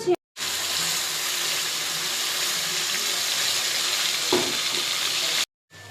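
Fish frying in a pan for a taro fish curry, a continuous dense sizzle, close and steady from start to end, with no talking over it.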